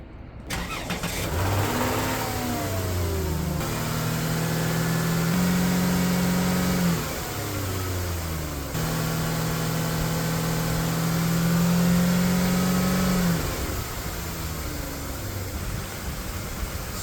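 A 3.6L Pentastar V6 cranks and fires up after its ignition coils and spark plugs have been replaced, then settles into a steady idle with a couple of brief revs, loud and close.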